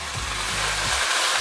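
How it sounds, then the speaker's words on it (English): Spinach and broccoli stirred together in a cooking pot for a greens soup, a steady sizzling hiss with soft scraping stirs underneath, close and unbroken. "Stir this all together"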